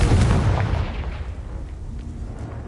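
A Confringo fire spell detonates in Hogwarts Legacy, a loud booming blast that rolls off into a fading rumble over about three seconds with no voices.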